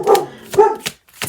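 A dog indoors gives a quick series of loud, close barks, three or four sharp yaps in a row with short gaps and no speech over them.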